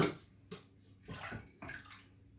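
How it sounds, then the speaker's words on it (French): Water is poured from the top into a ceramic object to fill its inside for glazing, giving a few splashing, gurgling pours that swell and fade, close and alone. "Alors là je vais remplir tout l'intérieur en faisant couler l'eau depuis le sommet là."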